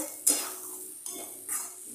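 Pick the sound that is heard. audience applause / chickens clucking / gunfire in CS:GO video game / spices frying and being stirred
spices frying and being stirred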